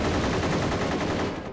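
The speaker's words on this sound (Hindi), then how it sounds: "फौजी भाइयों पर गोलियां क्यों चला रहे हो?" Gunfire in a battle scene from the 2002 Hindi film Maa Tujhhe Salaam: a dense, loud, continuous burst of rapid shots that fills the whole moment, easing slightly toward the end.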